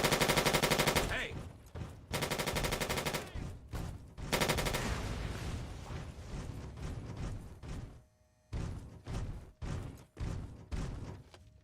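Turret gunfire in Fallout 3 and New Vegas, loud rapid bursts of automatic shots that stop and restart in choppy volleys, with several separate heavy thuds near the end.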